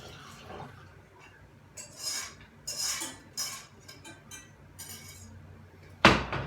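A whisk scrapes and clinks against a saucepan while cream for a galette des rois is beaten, in several irregular bursts, ending with a sharper metallic clank; close and moderately loud, with no talking.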